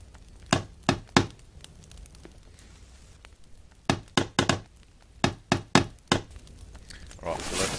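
Shelter construction in The Forest video game: sharp wooden knocks and chopping thuds come in quick bursts of two or three, pausing between groups, fairly close and clear over a low ambient bed.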